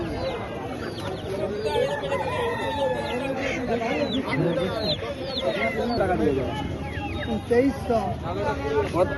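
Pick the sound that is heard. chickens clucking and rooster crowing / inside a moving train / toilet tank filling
chickens clucking and rooster crowing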